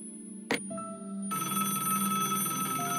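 A telephone rings in the point-and-click adventure game Broken Sword: Shadow of the Templars, a steady electronic bell tone that sounds after a brief click and carries on alone, moderately quiet and without speech.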